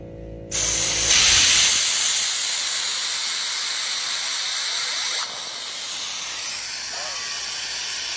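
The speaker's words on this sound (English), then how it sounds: "I put a little hole in this hose. Got my air line." Compressed air from a shop air line blasting through a small hole in an old water hose, a loud, sustained close hiss that starts abruptly and keeps on with a slight drop partway through.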